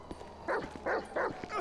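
A dog encountered on a walk gives four short, fairly close yips or whimpering barks at an even pace, with faint background noise.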